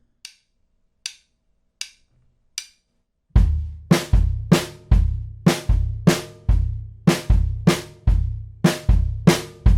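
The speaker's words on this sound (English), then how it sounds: "So the Jolie pattern, with just the snare drum and the bass drum, would sound like this." Snare and bass drum play a steady pattern, starting with a few light isolated taps and then building into loud, close, repeated rhythmic hits with sharp attacks and decaying tails.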